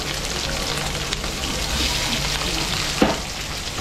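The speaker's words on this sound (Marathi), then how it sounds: "तेल तापलेलं आहे. त्यामध्ये आपण हे फिशचे तुकडे आपण मॅरिनेट करून ठेवले होते ते टाकत होता." Marinated fish pieces fry in hot oil, giving a steady, close sizzling hiss throughout with a brief clink near the end.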